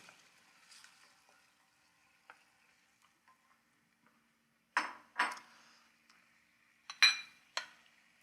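Canned tomatoes going into a pan of sauce, with quiet sparse clinks, then a few loud splashy stirring bursts and utensil knocks against the pan.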